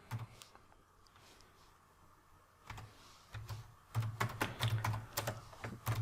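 Keys clack on a computer keyboard as a code comment is typed, sparse and tentative at first, then a quicker, denser run of close, crisp strikes toward the end.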